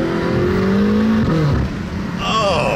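A BMW F10 M5 fitted with downpipes revs hard at a Cars and Coffee meet, a loud, close engine roar climbing in pitch, dropping back, then rising again, with brief voices nearby.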